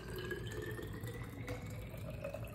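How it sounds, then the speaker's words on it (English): Water pours steadily into a plastic sensory bottle holding pom-poms, making a continuous splashing and filling sound nearby with no talking. "I'm going to take some water and I'm going to pour it in with the pom-poms"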